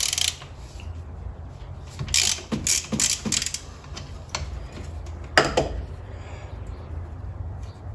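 A ratchet works the distributor nut on a VW Type 4 engine from a Porsche 914, producing a few close bursts of quick clicking strokes separated by quiet stretches of faint background hum.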